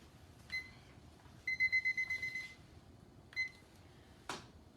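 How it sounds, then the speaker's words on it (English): A kitchen timer gives a couple of single chirps as it is set, then a rapid run of about eight bright, close beeps, followed by another chirp and a soft thud. "let me put a timer on so I don't forget it."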